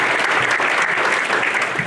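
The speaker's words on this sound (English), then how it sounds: "let's give them a round of applause" Dense audience applause at a homeowners' renovation and repair seminar, loud and steady throughout the short stretch, with no voices over it.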